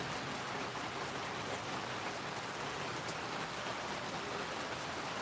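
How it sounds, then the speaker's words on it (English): Heavy rain falls steadily on a canvas cover, a dense, even hiss of drumming drops with no pauses and no voices. "It's raining pretty heavy out here"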